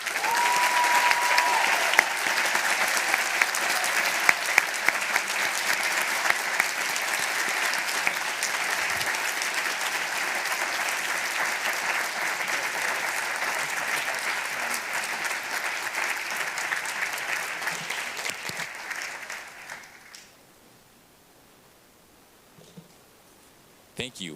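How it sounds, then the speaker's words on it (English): Sustained standing applause from delegates at a student Model UN closing ceremony, a dense, even roar of clapping that runs for about twenty seconds before stopping abruptly into near silence, with a few faint sounds after. "Please rise for this well-deserved round of applause."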